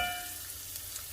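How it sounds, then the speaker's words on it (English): Onion sizzling in about a tablespoon of cooking oil in a preheated pan, a steady soft broadband hiss with faint crackles, fairly quiet and continuous with no talking. "I'm just going to make things aromatic with this onion and a little bit of cooking oil"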